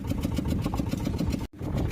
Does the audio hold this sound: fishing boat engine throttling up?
yes